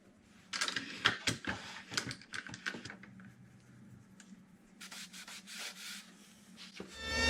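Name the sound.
sanding wooden cabinet doors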